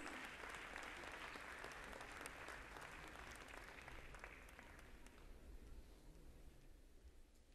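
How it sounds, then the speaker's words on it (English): An audience at the Global Conference on Cyber Space 2017 applauds the award-winning teams with steady, thick clapping that holds for several seconds, then gradually thins and fades. "Please give them a big round of applause,"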